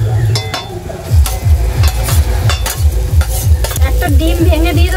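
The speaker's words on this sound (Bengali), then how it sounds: "ভেজে রাখা আলু আর গাজরটা দিয়ে দেবো।" Fried potatoes and carrots are stirred with a spatula in a hot frying pan, sizzling steadily with repeated scraping and clinking strokes against the metal, close and loud.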